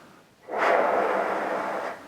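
Breathy rush of air blown through a baritone mouthpiece with no lip buzz, a soft hiss that rises suddenly and holds steady for about a second and a half, heard alone and fairly quiet.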